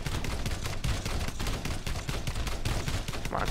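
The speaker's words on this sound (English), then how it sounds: "Okay, let's start shooting" Rapid continuous gunfire in the pixel-art game Pixel Privateers, loud dense bursts of shots running without pause for the whole stretch.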